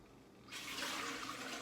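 Water pours steadily into a Presto pressure canner, a sudden broad rushing splash that begins after a brief quiet moment and continues evenly, close and fairly loud.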